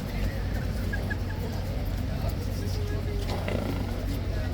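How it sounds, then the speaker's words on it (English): A King's Horse at Horse Guards lets out a growling, tiger-like call amid the surrounding bustle, short and mid-distance, with people talking close by. "The horse just went like a tiger."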